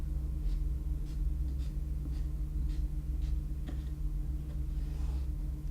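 A pen sketches dashed axes of a three-dimensional diagram, giving a series of short, evenly spaced scratching strokes, faint and close over a steady low background hum.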